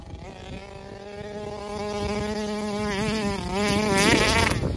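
A Taylor RC 71 Supreme RC boat's engine buzzes at quarter throttle on its first tank, a high nitro whine rising and wavering in pitch, growing louder toward the end.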